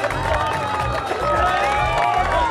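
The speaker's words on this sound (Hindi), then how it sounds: "उसामा के लिए तालियां हो जाए।" An audience applauds and cheers for the winner of a game round at an outdoor community event in Rahim Yar Khan, a brief burst of clapping and shouting with voices mixed in.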